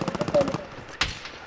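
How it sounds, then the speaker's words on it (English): Gunfire in a first-person video game, a quick rhythmic burst of shots followed by a single sharp, loud crack, with a player's voice in the moment. "I'm getting sniped at"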